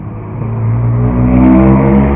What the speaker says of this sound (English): No sense in cars being that loud